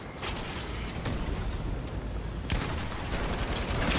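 Fortnite shotgun fire in Chapter 2 Season 4, a string of loud sharp blasts over constant close battle noise, with a heavier shot in the middle.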